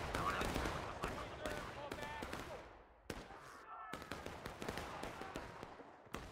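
Musket volleys and scattered rifle shots in the Civil War game War of Rights crack out at close range, several sharp reports in quick succession with echoing tails, while voices talk over the firing.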